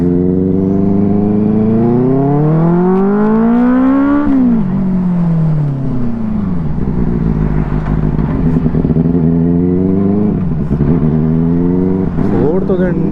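A Benelli 600i motorcycle engine revs hard, its pitch climbing, dropping and climbing again in loud sweeping waves, with a voice talking over it.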